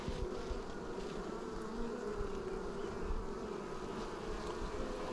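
Honey bees hum in a dense, continuous drone close around an open top bar hive, a low steady buzz with no breaks and no talking.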